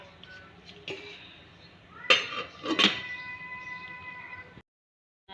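A metal lid set onto a pot of water on the stove, giving two sharp clanks close by over a quiet kitchen hum, with no one talking.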